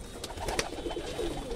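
Domestic pigeon, a hen sitting on two eggs, cooing softly in a low continuous murmur with a couple of brief sharper sounds, fairly faint and close by, no talk.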